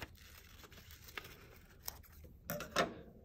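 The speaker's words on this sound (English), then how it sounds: "I'm going to cut around it" Scissors snipping around a paper cutout for an origami chicken craft, a few faint, sparse cuts and rustles, closing with a louder crinkling tear of paper near the end.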